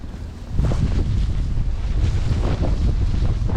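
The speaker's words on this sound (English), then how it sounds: "the wind is definitely picking up" Strong wind from a nor'easter snowstorm in New York roars and buffets the microphone in a loud, continuous rush with gusty swells.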